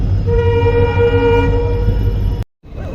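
Mysuru–Chamarajanagar passenger special train 06543 departing, its horn sounding one long, loud, steady blast over the engine rumble, then cutting off sharply before the low rumble resumes.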